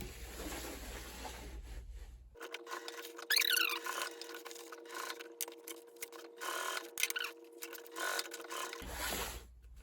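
A sewing machine quietly stitches through wax canvas for a tote bag, a faint mechanical whir with light squeaks and clicks running for several seconds between quieter stretches.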